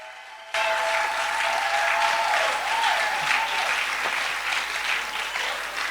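Church congregation applauding after a testimony, sustained dense clapping that starts abruptly and holds steady, with faint tonal voices or sustained notes drifting underneath.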